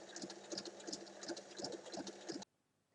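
A domestic sewing machine stitches along a folded fabric edge for an organiser basket, a rapid close mechanical patter with uneven pulses that stops abruptly near the end.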